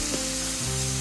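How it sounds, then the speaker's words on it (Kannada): Tomato and curry leaves fry in hot oil in a pan for boiled egg pepper fry, giving a loud, steady, close sizzle throughout. "ಟೊಮೆಟೊ ಮೆತ್ತಗಾಗಬೇಕು, ಅಲ್ಲಿ ತನಕ ಫ್ರೈ ಮಾಡ್ಕೋಬೇಕು."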